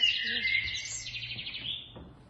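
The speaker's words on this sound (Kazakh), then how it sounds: "Біздің жаңағы көкегіміздің дауысы бар." A cuckoo calls with bright, repeated high notes, clear and fairly close, a short burst of song with no voices.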